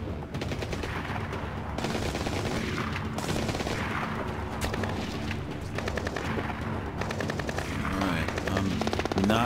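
Sustained machine-gun and rifle fire from a firefight in the stealth shooter game Tom Clancy's Splinter Cell: Blacklist, on PC, loud and continuous with rapid bursts and heavy impacts filling the whole stretch.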